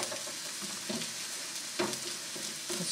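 Onions sizzle in a frying pan, a continuous bright crackle with a few louder bursts as they are moved around, heard up close with no speech.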